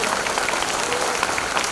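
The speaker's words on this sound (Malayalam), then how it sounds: "ആ കൈയടിച്ചോ, ആ നല്ല കൈയടിക്കും." An audience at a Bible convention, held under an open sky without a roof, claps in a dense, continuous burst of applause with some voices mixed in.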